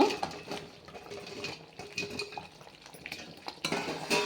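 Fried chilli chicken being stirred in a pan, with soft scraping and clinking of a spoon against the metal, gentle irregular knocks and a faint sizzle, close and steady for a few seconds without speech.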